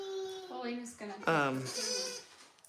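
A homestead goat bleats a few wavering cries near the microphone, with people talking over and between the calls.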